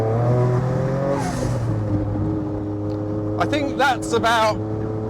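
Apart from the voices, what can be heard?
Noble M12 3R accelerating with turbo whoosh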